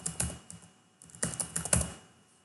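A password being typed on a computer keyboard during a MySQL installation on Windows 10. Close, crisp key clicks come in quick irregular clusters with brief pauses between them, then trail off.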